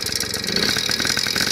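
A Yamaha PW50 two-stroke motorcycle engine runs just after a kick start, a rapid buzzy putter with slight throttle blips, close and steady, with no speech.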